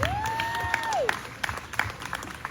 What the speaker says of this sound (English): how about a round of applause for Mr. Caleb?